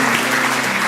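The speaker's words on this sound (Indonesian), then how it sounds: "Kasih tepuk tangan untuk Tuhan Yesus." A church congregation applauds for Jesus during a service, a dense steady wash of clapping throughout the short moment, with sustained tonal music or organ holding underneath.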